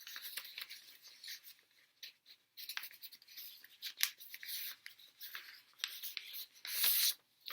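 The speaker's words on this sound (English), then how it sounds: "you're going to fold this side over to this side" Paper being folded for a kids' craft makes soft, close scraping, creasing and rustling sounds, faint and intermittent, with a slightly louder swipe near the end.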